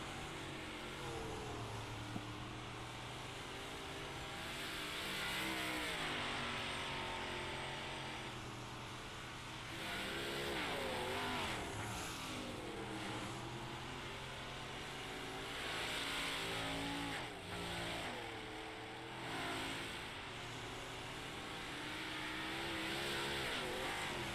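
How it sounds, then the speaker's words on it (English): The '99 race car runs practice laps at Federated Auto Parts I-55 Speedway. The engine drones from mid-distance, and its revs rise and fall in repeated waves as the car circles the track. "'99 car, Billy Roberts out on the track"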